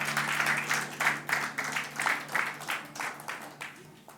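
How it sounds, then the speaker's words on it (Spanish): A church congregation standing and applauding during a worship service, rhythmic rising-and-falling bursts of clapping, fairly close and loud, with a faint sustained hum beneath. "denle un aplauso a Cristo el Señor"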